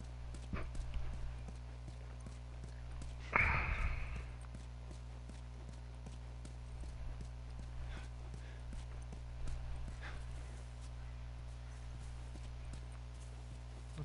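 Horse hoofbeats in the video game Grounded, a soft steady clip-clop of walking hooves under a low constant background hum, with one louder burst of movement partway through.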